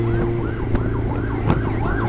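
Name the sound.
ambulance siren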